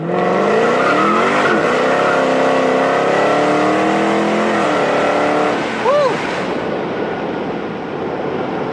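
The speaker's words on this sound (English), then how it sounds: "Now we're going to do a launch from 2nd gear." A Dodge Hellcat makes a second-gear launch: a loud, close engine roar climbs in pitch through several revving sweeps, with a brief tire chirp near the end before the sound settles to a steady drone. A voice can be heard over it.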